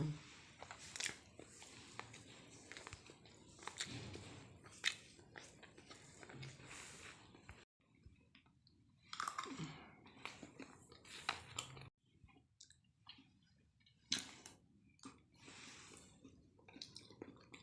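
Someone eating a boiled egg, soft wet chewing and biting close to the mouth, irregular bursts with brief pauses, quiet and intimate, with a few soft murmured words between bites.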